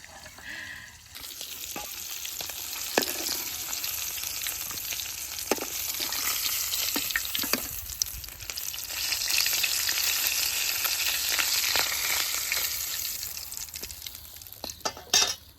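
Hilsa fish fries in hot oil with a dense, steady sizzle that swells in the middle and carries a few clinks of utensils, close up and unaccompanied by speech.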